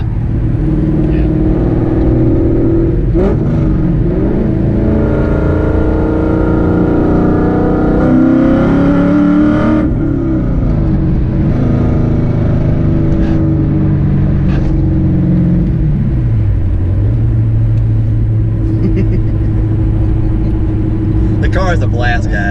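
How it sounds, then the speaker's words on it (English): Inside a Ford Fox-body Mustang with a Coyote V8 swap and manual gearbox, the engine drones loudly while driving, rising and falling as it revs through gear changes, with a low rumbling note throughout. "It's so fun to be back in a manual car."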